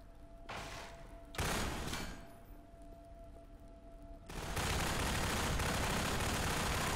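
Gunfire sounds in Half-Life 2 as several loud, noisy bursts of rapid shots. A sustained barrage of fire takes over near the end.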